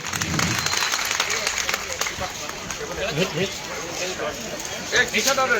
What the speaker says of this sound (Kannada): ಜೋರಾದ ಚಪ್ಪಾಳೆ ಮೂಲಕ ಕಮಿಷನರ್ ಸಾಹೇಬರಿಗೆ ಅಭಿನಂದನೆಗಳನ್ನು ಸಲ್ಲಿಸಬೇಕು